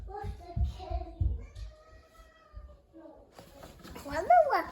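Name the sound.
cat meowing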